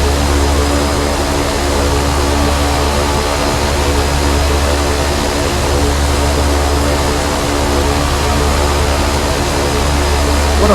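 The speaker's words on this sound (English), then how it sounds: "aircraft take off." A Carenado B200 King Air twin turboprop in the X-Plane 10 flight simulator roars steadily during takeoff, a loud, continuous engine and propeller drone with a low hum beneath it and no voices.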